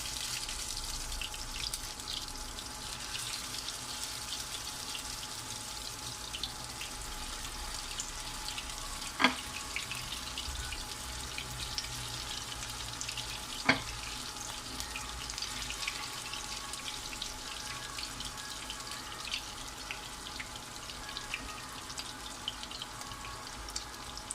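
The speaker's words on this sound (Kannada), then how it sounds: "ಎರಡು ಸೈಡ್ ಗೋಲ್ಡನ್ ಕಲರ್ ಬರೋದಕ್ಕೂ ನಾವು ಫ್ರೈ ಮಾಡ್ಕೊಬೇಕಾಗ್ತದೆ" Tuna fish cutlets fry in hot oil with a faint, steady crackling hiss over a long stretch, broken by two sharp clicks partway through, without speech.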